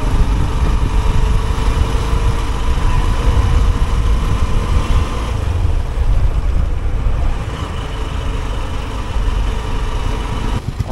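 A motorcycle engine idles steadily at close range in a long traffic jam on a mountain road in South Sikkim, a continuous low rumble with faint surrounding traffic noise throughout.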